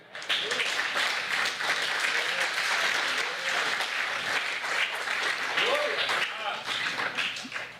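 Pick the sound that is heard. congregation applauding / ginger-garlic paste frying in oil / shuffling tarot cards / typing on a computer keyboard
congregation applauding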